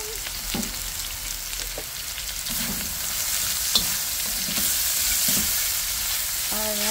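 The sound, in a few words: carrots stir-frying in a hot pan for pancit guisado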